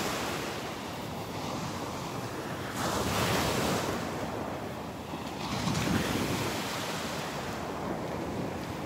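Ocean waves wash onto the beach at Delnor-Wiggins, a continuous surf roar that swells and recedes in slow surges, with some wind buffeting the microphone and no voices.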